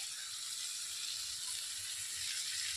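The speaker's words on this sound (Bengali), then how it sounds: "টমেটোটা দেওয়ার পরে কিছুক্ষণ একটু ভেজে নিতে হবে" Chopped tomato frying in a pan for a Bengali bele fish jhal, giving a steady, close, even sizzle with no breaks and no voices.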